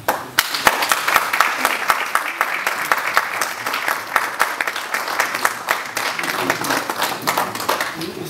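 Sustained audience applause at a press conference in Paris, many hands clapping densely and steadily for several seconds at moderate loudness.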